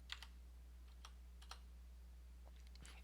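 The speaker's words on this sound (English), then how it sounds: "So let me type a password." Faint computer keyboard keys tapped in a few sparse clusters to enter a password, quiet clicks over a steady low hum.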